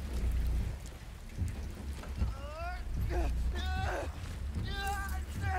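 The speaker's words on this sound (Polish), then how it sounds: "A co ten deszcz przecież na niego pada?" Steady rain hisses over the landscape in the video game Death Stranding, a continuous wash of falling drops with a low rumble underneath, while a person talks over it intermittently.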